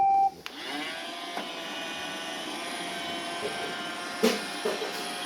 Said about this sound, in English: my Roomba going very well on black carpet